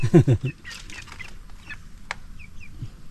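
Chickens on a Philippine farm kept as fighting cocks, for sale and as native birds cluck and squawk nearby, with one loud burst at the start followed by scattered softer clucks and brief rustling.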